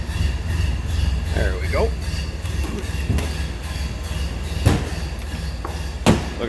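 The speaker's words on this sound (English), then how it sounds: "There you can hear it running. Sound you expect out of a stock Model A." A stock 1931 Ford Model A roadster engine idles steadily with the throttle raised slightly, a continuous low mechanical rumble close by, with a brief spoken remark and a couple of sharp knocks over it.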